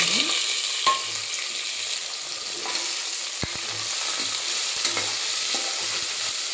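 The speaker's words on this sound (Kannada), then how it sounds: "ಈರುಳ್ಳಿ ಫುಲ್ ರೆಡ್ ಆಗೋವರೆಗೂ ನಾವು ಫ್ರೈ ಮಾಡ್ಕೋಬೇಕು ಈ ರೀತಿಯಾಗಿ ಫ್ರೈ ಮಾಡ್ಕೋಬೇಕು" Chopped onions sizzle and fry steadily in a pan while being cooked for fenugreek rice, with a continuous hiss broken by occasional scraping stirs and soft knocks of the spoon against the pan.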